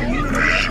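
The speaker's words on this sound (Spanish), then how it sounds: "Vean estos patos." Ducks quack at an outdoor animal market selling livestock and poultry, a dense, continuous cluster of nasal calls close by with crowd noise beneath.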